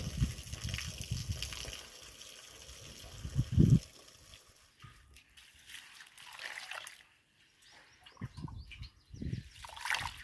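Water is poured off soaking ration rice in a quiet kitchen, coming as soft trickles and small splashing gushes in separate bursts with brief pauses between them.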